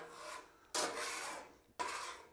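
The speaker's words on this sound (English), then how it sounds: "trying to scrape all the crap out of it." Metal scraper dragged across a hot Blackstone griddle surface, three rough rasping strokes close up, each starting sharply and tapering off, with no talking.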